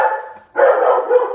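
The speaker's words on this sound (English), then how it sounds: "My dogs just go crazy." Pet dogs bark at home, two loud close barks separated by a short pause, with no talking.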